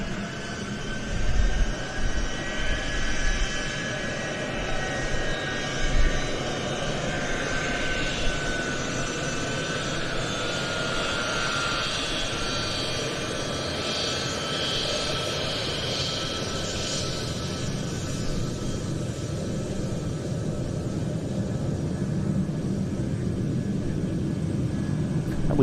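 Boeing C-17 military transport aircraft departing an air show, its jet engines producing a loud, sustained broadband roar that swells early and holds steady throughout, heard alone without talk.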